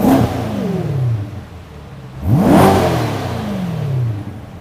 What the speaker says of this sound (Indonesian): Bener-bener suaranya, muscle car-nya tuh masih ada gitu ya. Dia punya suara khas sendiri gitu.